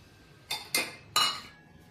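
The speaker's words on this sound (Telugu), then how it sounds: "ఇందులో గిన్నె పెట్టేస్తున్నాను" Three bright metallic clinks ring out as a metal vessel is set down inside a cooking pot for making idli, spaced closely and clear against a quiet background.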